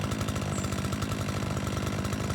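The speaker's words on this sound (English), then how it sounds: "Press RT to use the trimmer." A string trimmer in a lawn mowing video game runs with a steady, buzzy two-stroke whine, holding at an even, fairly loud level with no speech over it.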